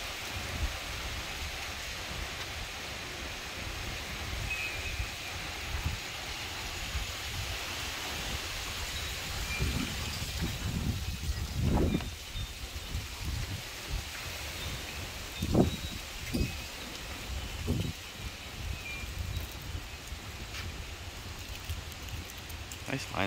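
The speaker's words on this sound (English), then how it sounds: "Windy today." Gusty wind blows outdoors around a 1949 Ford Custom sedan, a broad rushing noise with intermittent louder buffeting gusts, fairly faint overall.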